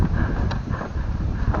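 Strong wind at Ton-ok Falls in the Philippines roars and buffets the microphone throughout, a loud, continuous rumbling gust with brief rustling bursts.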